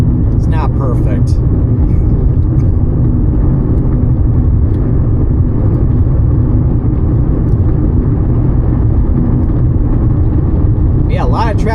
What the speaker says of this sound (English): a lot of traffic out, even for a holiday